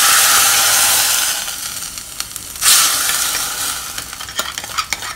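Seasoning mixture poured and stirred into moru curry, a cucumber and buttermilk curry, with a loud sizzling hiss at first that fades, then a burst of frying and scattered scraping stirring clicks, no talking.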